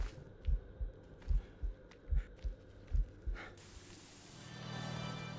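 A healing spray used in Resident Evil: Revelations 2, a steady hissing spray rising after a run of deep, throbbing heartbeat-like pulses, close and moderately loud with no talking.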